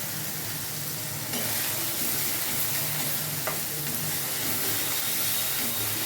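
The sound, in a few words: stirring and frying spices for egg curry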